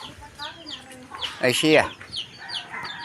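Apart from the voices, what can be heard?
chickens clucking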